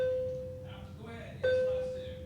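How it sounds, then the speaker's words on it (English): A school bell rings as two electronic chime tones: a sustained tone that fades, then a second strike about a second and a half in that rings out and decays, over faint background voices. "The bell just rung, so I'm going to be very brief."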